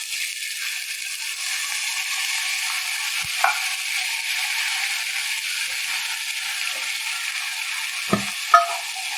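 Asafoetida, curry leaves, dry and green chillies sizzling in hot oil as a little water goes in for a dhokla tempering, a steady hiss throughout with a few small clicks and a brief sharper splutter near the end.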